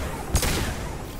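A single sharp pistol shot in Mass Effect 2 Legendary Edition cracks out once against a constant background of game ambience.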